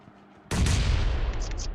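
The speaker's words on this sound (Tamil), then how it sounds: "குண்டு போட்டாங்க அவருக்கு." A sudden heavy blast in a shooter video game, a grenade or bomb going off with a loud booming roar and rattling gunfire that holds for over a second after a quiet lead-in.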